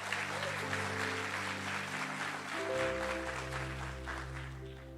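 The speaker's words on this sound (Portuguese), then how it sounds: "Dê o melhor aplauso que você pode dar a Deus." A church congregation applauding together, a dense sustained clapping that fills the space, with a speaker's voice carrying over it.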